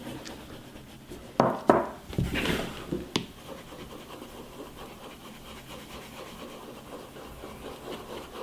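Wax being rubbed onto leather boots with a cloth or brush, giving a few close scratchy rubbing strokes in the first few seconds, then quieter faint rubbing and handling.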